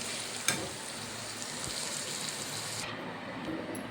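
Paneer bhurji sizzles and fries in a pan while being stirred, a steady dense crackle throughout with a sharp clink near the start, close and moderately loud with no talking.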